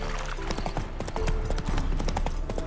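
Horse hooves clip-clop in a steady walking rhythm in The Witcher 3, close and clear, with faint game voices in the background.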